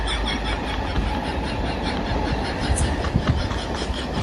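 A train rolls past on railway tracks with a continuous heavy rumble and roar, faint rhythmic clacks of wheels over rail joints near the end, and no talk.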